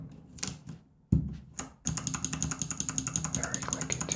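Clicky typing on a mechanical keyboard fitted with Kailh Box Jade switches: a few scattered keystrokes, then a fast, steady run of sharp, crisp clicks, close and fairly loud.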